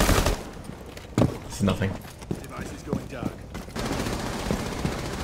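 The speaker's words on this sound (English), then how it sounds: "they're shooting on the right side" Gunfire crackles in Rainbow Six Siege during a consulate team deathmatch hostage round, bursts of shots near the start and middle, then sustained rapid firing toward the end, with people talking between the shots.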